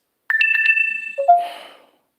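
A phone ringtone plays alone: a bright electronic melody of quick pulsing tones for about a second, followed by a lower sliding tone with a burst of fuzzy noise, fairly loud and close.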